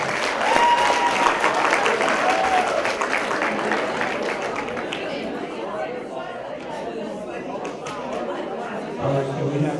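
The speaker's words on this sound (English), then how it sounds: "Give everybody a round of applause who got them up" Audience applause at a raffle event, a broad steady wash of clapping mixed with crowd chatter that fills the room throughout and tapers slightly toward the end.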